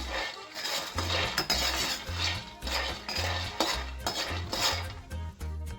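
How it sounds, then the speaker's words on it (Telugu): Peanuts stirred in a pan over a low gas flame for peanut chutney, continuous close scraping and rattling of a utensil against the pan in an uneven rhythm, with no voices. "ఒక ఐదు నిమిషాలు సిమ్లను ఫ్రై చేసుకుంటున్నాను"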